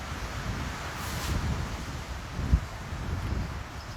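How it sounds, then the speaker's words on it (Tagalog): Steady breeze blows outdoors, a soft, continuous windy rush with faint rustle and one small bump, no one speaking. "Sarap ng hangin."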